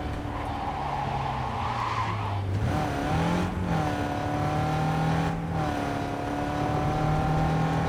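A car in the video game Cyberpunk 2077 drives with a steady engine drone, shifting pitch as it revs and changes gear, alongside tire squeal, with no talking.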